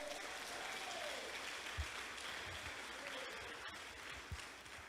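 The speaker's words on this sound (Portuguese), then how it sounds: "Quem crê assim, dá um aplauso ao Senhor" Clapping from a church congregation during a Portuguese sermon, fairly quiet and mixed with crowd noise and a few louder thumps, with faint voices underneath.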